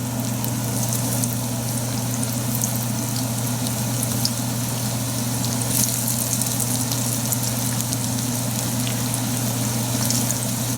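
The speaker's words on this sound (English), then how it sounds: "The oil is hot. We'll fry the eggplants first." Eggplant slices coated in corn starch and salt fry in a pan of hot oil, giving a steady, dense sizzle and crackle that runs continuously at an even level.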